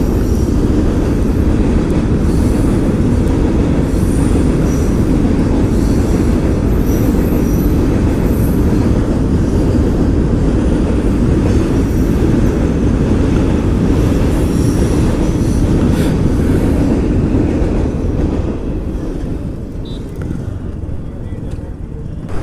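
A train rumbles loudly and continuously past a railway crossing in Goa, India, its wheels clattering and squealing throughout before the noise eases slightly at the end.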